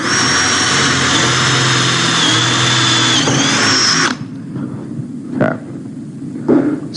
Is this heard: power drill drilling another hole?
yes